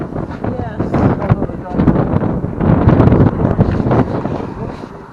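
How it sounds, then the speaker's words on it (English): Strong wind gusts buffet the microphone on a church tower roof, a loud, steady rushing roar that swells and eases, with people talking underneath. "Oh, it gets windy up here, doesn't it?"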